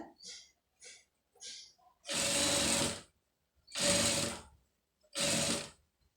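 Sewing machine stitching a lining piece into an embroidered blouse, running in three loud steady bursts of about a second each, preceded by a few short soft ticks and clicks, with no one talking.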